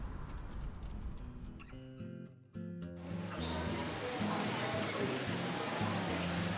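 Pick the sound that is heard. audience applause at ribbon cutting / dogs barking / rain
rain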